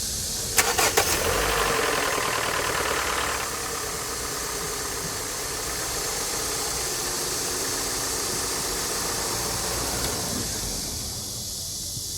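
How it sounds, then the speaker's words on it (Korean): A car engine cranks briefly and catches after an engine oil refill, then settles into a steady idle that continues for several seconds. "시동 걸겠습니다"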